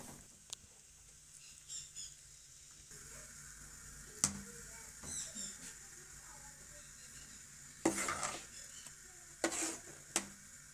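A spoon scrapes and stirs a thick flour mixture for mustard-greens saag in a pot, with soft intermittent clinks and scraping bursts over a quiet background.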